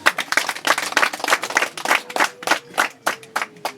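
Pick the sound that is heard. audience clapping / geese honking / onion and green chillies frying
audience clapping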